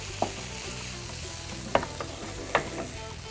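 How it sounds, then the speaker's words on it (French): A spoon stirs egg, spinach and flour together in a pan while a low, steady sizzle runs beneath, with three distinct scraping knocks spaced irregularly. "On essaie vraiment d'aller au fond et vérifier que tous les épinards sont bien mélangés avec la farine."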